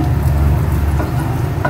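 Garlic sautéing in butter and cooking oil, a loud, steady, close-up sizzle with constant fine crackling throughout.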